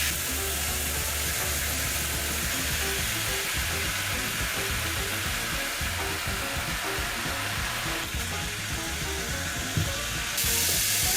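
Garlic and onions frying in a pan for an Italian-style stuffed eggplant filling, a steady loud sizzle and hiss that runs without a break, close up, with no talking.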